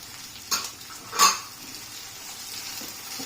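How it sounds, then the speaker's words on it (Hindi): Capsicum and carrot are tossed into a pan with onions for paneer chilli, giving two quick clattering hits of utensil on pan over a soft, steady background hiss, close and fairly quiet. "अब हम शिमला मिर्च डालेंगे, साथ में गाजर डालेंगे।"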